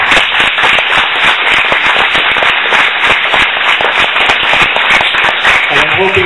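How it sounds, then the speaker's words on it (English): Audience applause for two candidates after a Florida House District 40 Republican primary debate, a loud, close, continuous clatter of many hands clapping throughout. "Can we please have a round of applause for the two candidates?"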